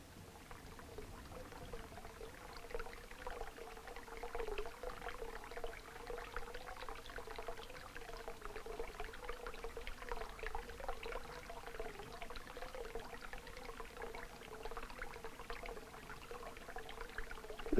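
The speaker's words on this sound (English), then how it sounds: "constantly running water from that spring up on the hill" Spring water from a hillside runs steadily inside a milk shed, a faint continuous pouring trickle with soft splashing and no break.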